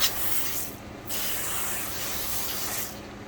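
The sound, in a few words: spraying Vonixx V-Floc car shampoo foam onto wheel well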